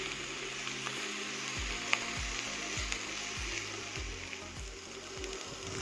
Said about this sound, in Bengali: সবজিটা ভালো করে একটু ফ্রাই করব যাতে গার্লিকের যে কাঁচা যে গন্ধটা যাতে চলে যায়।